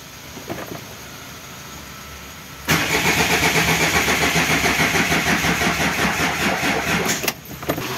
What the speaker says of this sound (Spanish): vamos a ver cómo reacciona el motor ahora con la bomba recién reparada